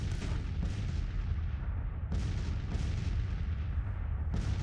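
A Civil War artillery battery firing in the Grand Tactician strategy game, heavy cannon booms landing in an irregular sequence of about five shots, each with a sharp onset and rolling decay over a continuous low battlefield rumble.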